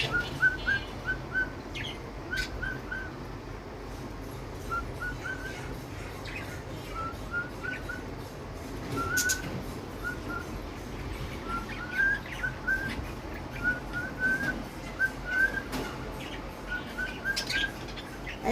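Mithu, a pet bird, gives repeated short chirps and whistled calls in clustered bursts, fairly close over a steady background hiss with occasional soft knocks.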